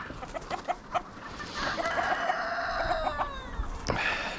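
Chickens and a rooster in a coop, with a run of clucks followed by a long, loud crow close by and more clucking and a sharp squawk near the end.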